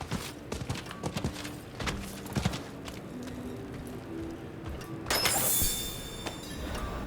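Hooves of a horse in Diablo 4 clop at a moderate pace through most of the stretch, mid-loud, with a brief clattering crash near the end.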